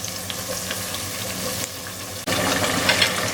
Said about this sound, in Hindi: इसको हम अच्छी तरह मिक्स करेंगे और हमने तब तक करना है जब तक ये अच्छी तरह भुन नहीं जाता